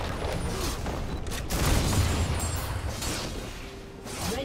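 A turret is blown up in a League of Legends match, a loud rumbling explosion with crackling bursts that swells in the middle, layered over busy game noise.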